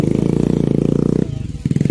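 A motorcycle engine runs at a bike stunt show in Jashpur, Chhattisgarh, giving a loud, close, steady throbbing drone that dips briefly and then picks back up.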